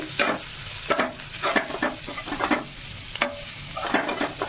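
Chickpeas and spices being stirred and fried in a pan, with a steady sizzle broken by repeated scraping strokes of a spoon, close and clear with no talking.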